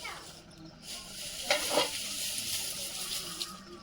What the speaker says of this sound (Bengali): এখানে উনুনের মধ্যে দেখতে পাচ্ছ দুধ পুলি ফুটছে